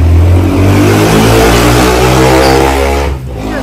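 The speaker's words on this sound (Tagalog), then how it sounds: "Ang ingay ng mga motor dito" Motorcycle engines rev loudly and close by on a busy street lined with souvenir stalls selling fridge magnets and keychains, a sustained mid-pitched drone with harmonic whine that dips briefly near the end.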